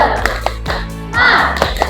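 Children in a classroom do the 'tepuk semangat' spirit-clapping routine. It comes as a few sharp, close hand claps mixed with voices chanting along.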